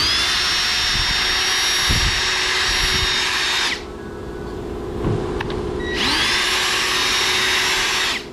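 A power tool whirs loudly while deburring the surfaces of a Ford F-350 7.3 Powerstroke 4x4 driveshaft, running steadily for about four seconds, dropping to a lower hum, then whining back up to full speed.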